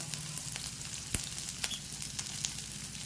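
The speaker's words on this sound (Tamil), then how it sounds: "அடுத்தது வெங்காயம் போடுறேன்." Onion and green chili hit hot oil in a pan on a stove turned to a simmer, giving a soft, steady sizzle with a few faint clinks and stirs, heard alone at low level.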